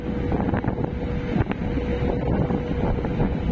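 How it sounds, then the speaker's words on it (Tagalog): Wind gusts across a boat at sea while an engine rumbles low beneath it, with buffeting bursts of microphone wind noise rising and falling over the steady drone. "Ito ang hangin to."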